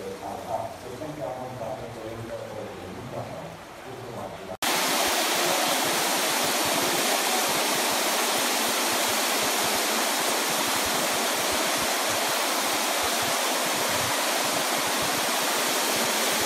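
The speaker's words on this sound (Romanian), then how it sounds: "Nu se vede prea bine, dar era izvorul de apă vie." Spring water gushes out of rock in a gorge, a loud, steady broadband rush close to the microphone that follows a few seconds of talk.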